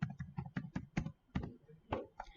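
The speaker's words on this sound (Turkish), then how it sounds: "Barkodumu yazıyorum." A barcode is typed on a computer keyboard as quick, faint key taps in an uneven run of about a dozen close clicks.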